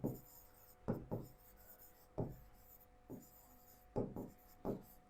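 A pen scratches out a math solution on paper in short separate strokes with pauses between, close and quiet.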